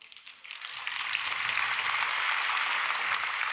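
Church congregation applauding during a Korean Sunday worship service, a broadband wash of clapping that rises from quiet within the first second and holds steady and fairly faint to the end, with no voices.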